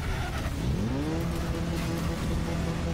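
Damaged car in the demolition-derby racing game Wreckfest drives on, its engine revving and rising in pitch with a steady mechanical drone, moderately loud and without talk.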